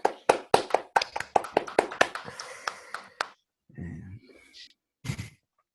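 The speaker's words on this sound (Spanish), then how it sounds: "Aplaudimos." A short burst of hand clapping, several people applauding together for a few seconds before it dies away, followed by a brief clap near the end.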